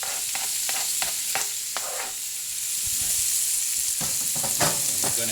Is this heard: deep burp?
no